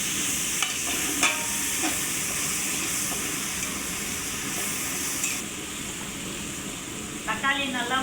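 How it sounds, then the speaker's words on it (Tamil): Tomatoes sautéing and being stirred in a pan for chicken biryani, a steady moderate sizzle with occasional scraping stirs, and a short burst of clattering near the end. "தக்காளி சேர்த்து வதக்க விடுங்க"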